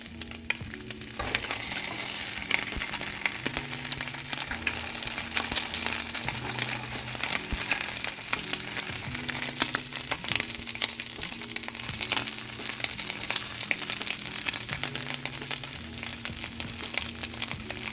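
Bacon frying in a pan makes a steady, fairly close sizzle full of small crackles and pops that continues without a break and with no voices.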